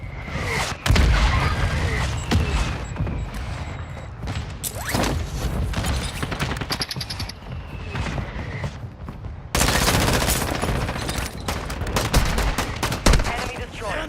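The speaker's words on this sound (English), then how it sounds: "Hostile mortar strike in the area. Our mortar strike is inbound." Gunfire and a mortar strike in a military shooter video game: bursts of rapid shots, mechanical clanks and booming impacts stay dense and loud throughout, with faint radio-style voice callouts mixed in.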